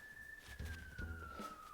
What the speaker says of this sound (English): Just heard a police siren outside.